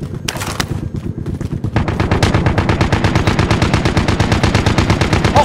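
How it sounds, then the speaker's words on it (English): Rapid automatic gunfire in Call of Duty Warzone, with a few scattered shots at first, then a sustained loud burst of evenly spaced rounds that continues steadily to the end. "Receiving hostile fire."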